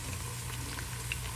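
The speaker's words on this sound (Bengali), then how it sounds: "এখন আমরা এটার ভিতরে দিব ফার্স্টে আদা রসুন পেস্ট" Ginger garlic paste frying in a pan with softened onions while making Bangladeshi chicken roast, a brief steady close sizzle with soft crackles.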